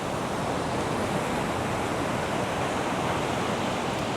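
Ocean waves break against the shore in a dense, steady roar of surf that stays loud and unbroken, with no voices.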